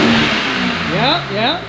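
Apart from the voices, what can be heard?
BMW G87 M2 engine revving with BMS intakes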